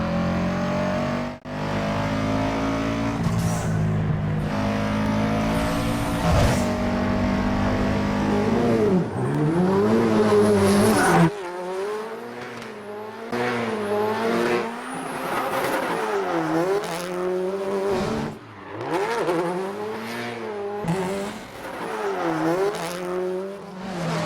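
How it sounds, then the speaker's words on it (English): Engines roar and rev through an off-road chase involving a Subaru, an off-road motorcycle and two police cars, with rising and falling engine pitch as vehicles pass and accelerate, loud and continuous over a musical score throughout. "The film ends with a fairly epic off-road car chase with a Subaru and an off-road motorcycle and 2 cops in regular cars."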